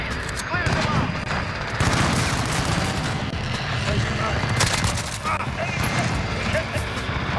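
Rapid automatic fire from a CR-56 AMAX rifle in Call of Duty: Modern Warfare, loud repeated bursts with gunfire and explosions throughout, while a player talks over the action.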